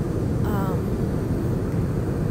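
Steady droning cabin noise inside an airliner on a seven-hour cross-country flight over Nevada, a continuous low roar that fills the whole stretch, with a brief faint chime-like tone near the start.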